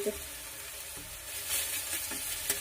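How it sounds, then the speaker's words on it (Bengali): Garlic and chopped onion frying in oil in a pan for a papad curry, a steady close sizzle with occasional stirring scrapes and no talking. "রসুন আর পেঁয়াজটা একসাথে আর একটু বেশ করে ভেজে নেবো।"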